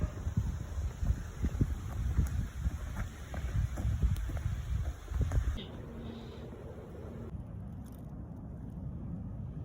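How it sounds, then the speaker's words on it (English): Wind-driven hail falling outdoors in a blizzard-like storm, a dense rough rustle and buffeting wind noise that is loudest for the first half, then drops to a softer steady hiss. "It's hail. It's not snow."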